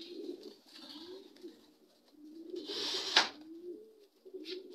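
Racing pigeons coo softly in a loft, low throaty rolling calls repeating close by, with a brief rustle or flutter partway through.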